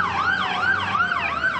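Fire truck siren wails at a fire in Tondo, Manila, its loud, steady rising-and-falling sweep cycling several times close by, with no talking.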